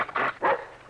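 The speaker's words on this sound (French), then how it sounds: "Rappelez votre bestiole. Ça va pas, ce chien peut bien s'amuser un peu, il est jeune." A young dog barks twice in quick succession, close and sharp, with a third bark starting at the end.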